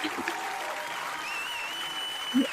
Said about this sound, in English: I gotta do the clap